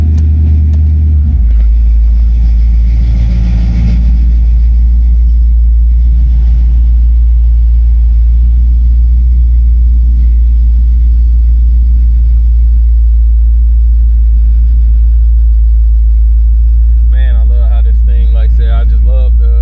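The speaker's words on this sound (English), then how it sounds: "I just love the engine sound" A 1969 Oldsmobile 98 V8 engine idles with a loud, deep, steady rumble throughout, close up, with a person speaking briefly near the end.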